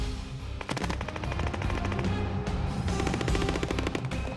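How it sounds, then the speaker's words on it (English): LAV Bushmaster cannon and machine gun fire during combat training, rapid bursts of loud gunfire repeating in quick strings with brief pauses, close and dominant with no talk. "Only one of the 4 LAV gunners is using his Bushmaster cannon as if he means it."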